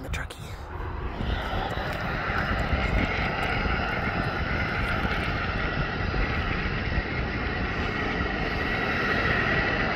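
Fire-fighting airplane passes overhead with a steady, moderately loud engine drone that holds for the whole stretch, with faint voices in the background.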